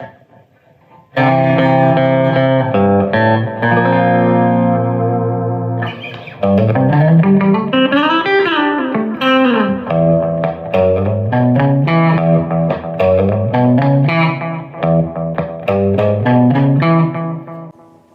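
A 1967 Fender Telecaster with a Bigsby vibrato, played with both pickups switched out of phase through an echo effect, loud thin sustained chords and bends with echoing repeats, no talk.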